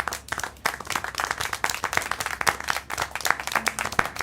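Steady applause from several pairs of hands in a video game, a dense patter of claps continuing throughout without pause.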